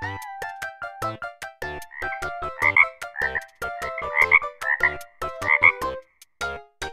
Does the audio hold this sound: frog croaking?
yes